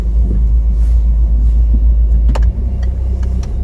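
A car rolls past on a street, a low steady engine rumble close by, with a few light clicks and knocks near the end.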